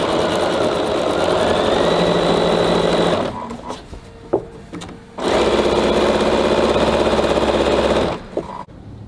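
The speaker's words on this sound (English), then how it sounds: "I'm going to just sew down the long side and the short side" A sewing machine stitches fabric in a steady whirring burst, stops for a moment with small clicks, then stitches again continuously before halting.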